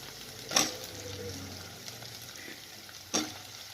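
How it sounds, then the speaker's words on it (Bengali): Eggplant frying in a pan with onion, garlic and ginger, a low steady sizzle broken by two sharp scraping stirs, close and quiet with no voices. "বেগুনটা পুরোটা দিয়ে এটা একটু নাড়াচাড়া করে ঢাকা দিয়ে দেবো"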